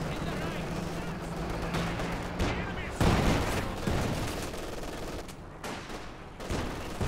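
Continuous battlefield gunfire in the Company of Heroes 2 strategy game: sniper shots, machine-gun bursts and heavy booms all packed into a constant roar, with a commentator's voice running underneath.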